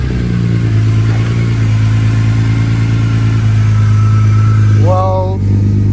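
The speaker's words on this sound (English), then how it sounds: "Go ahead, give the car a start." A car engine runs after tuning and a carbon fiber install, holding a loud, steady low idle with a brief rev near the end, and a voice talks over it.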